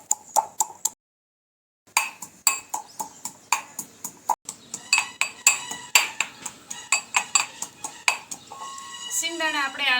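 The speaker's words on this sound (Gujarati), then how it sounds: "તો સિંગદાણાને પણ આપણે ખાંડી લઈશું।" Peanuts pounded in a mortar and pestle for a Gujarati stuffed onion and brinjal dish, a steady series of sharp clinking knocks with a brief pause, under a speaking voice.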